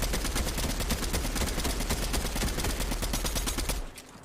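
An assault rifle in the Fortnite video game fires a sustained, rapid automatic burst, loud and close, with dense evenly spaced shots for nearly four seconds before cutting off.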